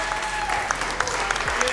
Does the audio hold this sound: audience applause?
yes